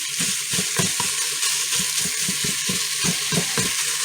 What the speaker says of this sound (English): let it continue to sizzle and fry